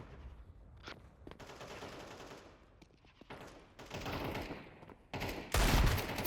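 Pistol shots from a Desert Eagle in a first-person shooter video game, several sharp bursts of gunfire spread through the clip, the last and loudest blast near the end, with no talking.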